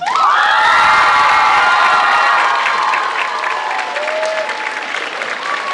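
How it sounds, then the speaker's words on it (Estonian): A school gymnasium audience at a student performance awards night roars with clapping, cheering and youthful shouts, loudest at first and then easing into a steadier wash of applause. "Aplaus, kestab."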